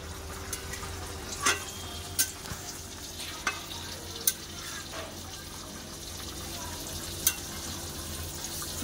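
Pointed gourd (potol) frying in a pan, a soft steady sizzle under a low hum, broken by a few sharp clicks of stirring or the spatula against the pan.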